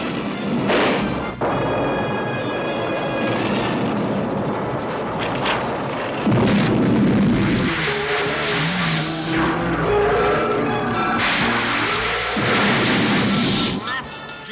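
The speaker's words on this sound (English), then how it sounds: "Magnet grenades, huh?" Magnet grenades go off in a G.I. Joe cartoon battle, with loud booming blasts and roaring, crackling explosion noise that fills the scene, layered with whooshes and effects and brief voices.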